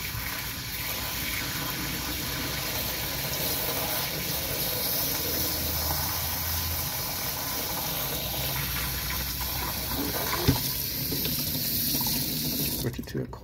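Water pours steadily from an RV faucet with a constant hissing splash, close by, with a faint knock partway through.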